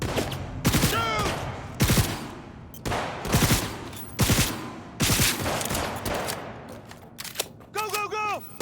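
Bursts of gunfire from the Cyberpunk 2077 video game crack out repeatedly over roughly eight seconds, loud and close, with a voice shouting in between the shots.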